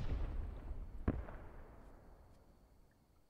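A smoke barrage artillery shell bursts in the World War II shooter Post Scriptum, a single distant thump with a rumbling tail that fades away over a few seconds.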